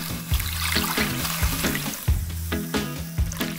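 Water mixed with citric acid poured onto baking-soda snow fizzes and bubbles in a close, crackling reaction, with a rhythmic series of pulsing gurgles under the steady hiss.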